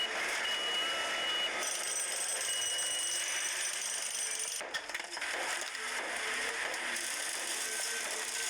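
Bulldozers demolishing homes, heard as steady high-pitched reversing beeps over a dense, continuous wash of heavy machinery and crushing noise, with a brief dip midway.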